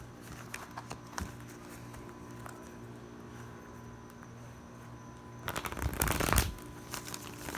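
Tarot cards being shuffled by hand: soft, continuous riffling and sliding of the deck, with a louder, denser burst of shuffling near the end.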